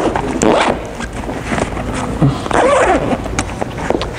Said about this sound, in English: we're gonna just put that in like a normal zipper, and then it's just gonna zip all the way around